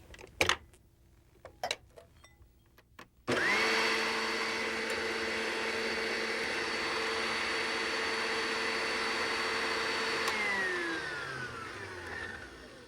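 Soapberries, sugar and water whipped into foam with an electric mixer, a few clicks and knocks, then a loud, steady motor whine running about seven seconds before winding down, close by with no talk.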